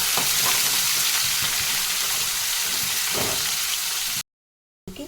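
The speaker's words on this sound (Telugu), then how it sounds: "సన్నగా తరుక్కున్న ఉల్లిగడ్డ ఇది ఇలాగా వేయించుకోవాలి" Finely chopped onions fry in a pan with a steady, close sizzle and hiss that runs continuously, then cuts off abruptly near the end.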